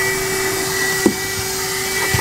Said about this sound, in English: That daggone vacuum cleaner does not work.